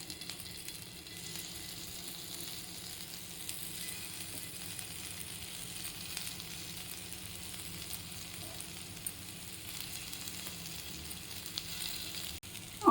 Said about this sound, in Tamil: இப்போ இந்த உருண்டைகளை தோசைக்கல்லை சேர்த்துடலாம்.